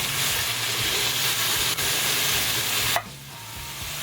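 Diced tomatoes and tomato paste stirred into browning meat in a pot, a steady hiss and sizzle with a scrape of stirring, then the sizzle abruptly quiets to a softer simmer.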